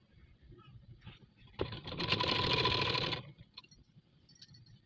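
A sewing machine stitching fabric in a short close-up run of about a second and a half, with a brief quieter whir before and after it.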